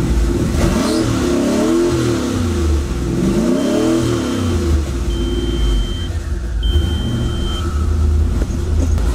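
A quad-turbo car engine holds steady revs around 3000 RPM, a loud, continuous, close-up drone with rising and falling harmonic sweeps and a faint whine on top, with no talk.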